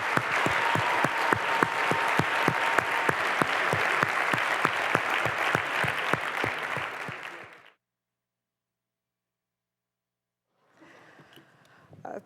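An audience applauds loudly to welcome a lecture speaker, steady dense clapping lasting about eight seconds before cutting off into silence, followed by a faint resumed patter of claps near the end.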